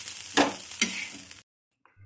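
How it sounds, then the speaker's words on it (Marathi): Crackling sizzle of chillies roasting in a hot pan with a couple of scraping stirs, then a brief quiet gap before more sizzling. "सर्व काही मिक्स करून चांगलं भाजून घ्यायचं"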